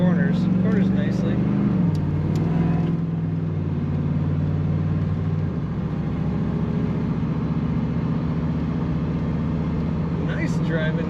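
1989 Pontiac Trans Am GTA, seats slightly torn, driving with a steady low engine drone and mild shifts in pitch, continuous and close from inside the car.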